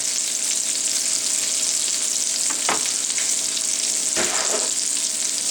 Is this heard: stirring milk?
yes